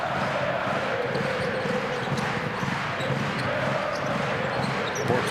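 A basketball arena crowd roars loudly and continuously during a Champions League game in Cluj-Napoca, a dense sustained wall of cheering with the bounce of a ball faintly beneath, and no clear talk over it.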